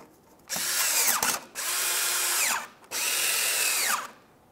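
On a Volkswagen Jetta, a power tool drives in the radiator mounting bolts. Three loud, close whirring bursts each rise and then drop in pitch as a bolt snugs tight, with short gaps between.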